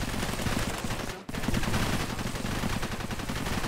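Sustained rapid turret gunfire in the video game Cepheus Protocol, a dense, loud, continuous automatic stream with one brief break partway through.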